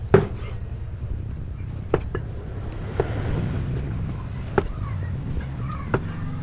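Knife chopping squid on a hard cutting board, sharp taps every second or so over a steady engine-like rumble.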